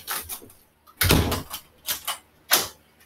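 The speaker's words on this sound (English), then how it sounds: "I open the door." A door is opened in a few distinct knocks and rattling handling sounds, close and fairly loud, separated by short quiet gaps.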